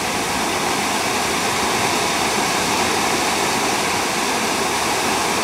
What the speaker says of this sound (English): look at the volume of water coming in here